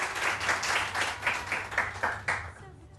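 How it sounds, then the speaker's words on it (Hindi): An audience claps for guests on a morning TV show, several seconds of moderately loud, close applause with rhythmic bursts that fade out near the end. "बहुत सारी तालियां इन लोगों के लिए।"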